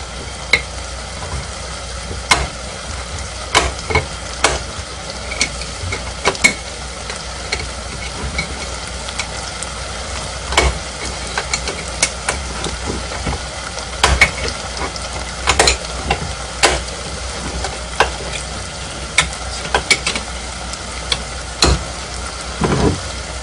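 A Swiss Army knife works open a food can by hand, sharp metallic clicks and prying snaps repeating irregularly at close range over a steady background hiss, with no talking.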